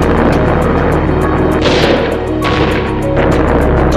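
Heavy rumbling explosions and booming blasts of B-25 bombers striking Tokyo in a wartime sound effect, continuous and loud with dense crackling bursts layered over a deep roar.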